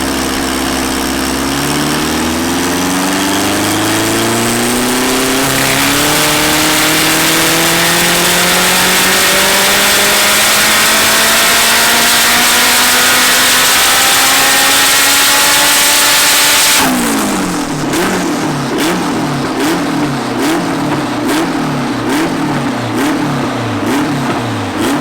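A turbocharged Honda Integra on a power run climbs in one long, loud, steady rev for about seventeen seconds, then lets off into a fluttering, pulsing engine sound.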